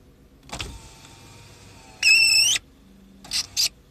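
Car power window with a fault, heard in a dark, quiet parked car: a motor hum starts, then a loud, brief squealing screech, followed by two short squeaks near the end, with no talk.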